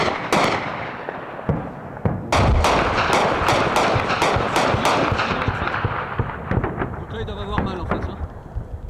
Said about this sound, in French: C'est du gros obus, hein. C'est pour ça que ça fait du bruit.